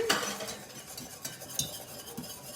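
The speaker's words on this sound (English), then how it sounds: "I think you might have to switch back to this whisk, Kelly, because it's definitely getting thicker" Whisk working through a thickening mixture of cream and butter in a pot, soft scraping strokes with occasional sharp metal clinks against the side, close and moderately quiet.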